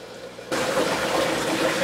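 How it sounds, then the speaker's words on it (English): A water pump starts up and pushes water from the sump into a coral aquarium tank, a quiet hum that suddenly gives way to a loud, steady rush of flowing water. "once the sump fills up, I can then plug in the water pump and adjust its controller to begin to pump water up to the tank"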